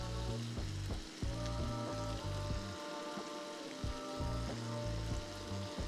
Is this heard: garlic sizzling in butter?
yes